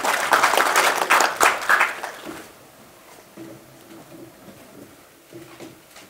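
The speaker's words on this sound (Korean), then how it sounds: "큰 박수 부탁드립니다." A crowd at an inauguration ceremony in a cultural center applauds in a burst of clapping that fades out after a couple of seconds, leaving a quiet room with a few faint knocks.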